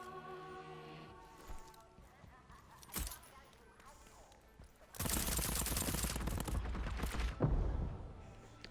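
Gunfire in the video game Deathloop: a single sharp shot, then a sustained loud burst of rapid shots with a few louder cracks near the end, all close and dense.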